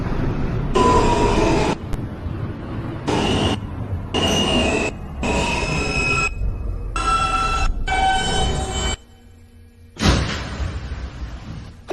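A New York City subway N local train rumbles along the Broadway line with a rhythmic roar, repeated rail clatter and wheel squeals close by, briefly dropping quiet as if in a station before the noise surges again.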